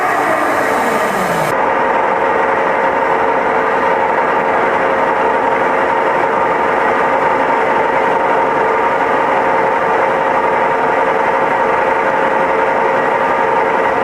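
Machined tie rod spinning while clamped in a lathe, a loud continuous mechanical whir with a steady tonal hum that holds unchanged throughout.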